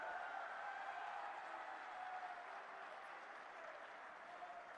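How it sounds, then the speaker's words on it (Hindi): Steady, sustained applause from a large crowd at a political rally in Gohana, welcoming Prime Minister Narendra Modi, rolling on evenly and somewhat distant for the whole stretch. "जोरदार तालियों से अपने प्रिय नेता का स्वागत करिए"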